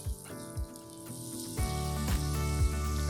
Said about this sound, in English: I'm gonna put this into a hot pan so it's gonna sizzle right away